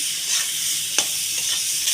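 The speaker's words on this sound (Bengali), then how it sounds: "ইচ্ছা মাছ ভাজা হয়ে গেল গা" Small shrimp frying with turmeric in a pan, a continuous bright hiss of sizzling oil with a couple of faint stirring clicks.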